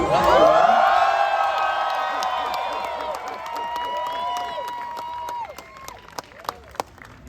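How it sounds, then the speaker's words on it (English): Big boisterous crowd at a Hollywood Walk of Fame star ceremony, loud cheering and whoops that swell at first and slowly fade, with a few sharp claps or clicks near the end. "this is a big, boisterous crowd"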